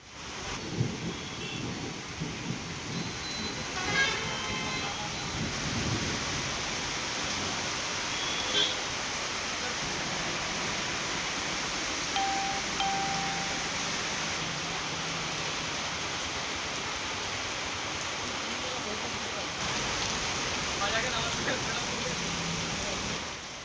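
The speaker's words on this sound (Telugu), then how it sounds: "ఉరవకొండ, వజ్రకరూర్, వేడపనకల్లు మండలాల్లో భారీ వర్షం కురుస్తోంది." Heavy rain pouring steadily across Anantapur district in Andhra Pradesh, a dense continuous hiss with occasional thunder rumbles, under a voice talking throughout.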